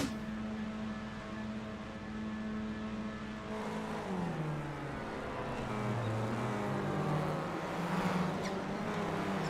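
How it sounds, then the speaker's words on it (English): Renault Clio race car in a sim racing game sitting in neutral at Oulton Park, the engine droning and revving up and down in rising and falling sweeps, loud and close, with no talk. "Oh, he sat there revving it."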